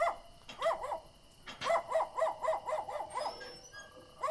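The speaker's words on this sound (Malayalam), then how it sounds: "എടി, ഇതേ ഇവിടെ പട്ടി ഉറക്കുന്നുണ്ടല്ലോ." A dog near a small house gate barks in quick repeated bursts, one short volley followed by a longer run of sharp, evenly spaced barks, loud and close, with no talk over them.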